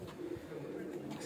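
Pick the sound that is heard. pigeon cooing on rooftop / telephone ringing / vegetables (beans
pigeon cooing on rooftop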